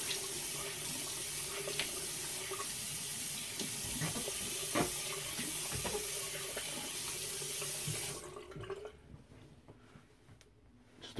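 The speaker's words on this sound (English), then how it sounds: "So just throwing some cold water in my head here." Cold water runs from a tap and splashes onto a face over a sink after a shave with a Mule R41 safety razor, a steady close gush with scattered splashes for about eight seconds before the flow stops and a few drips remain.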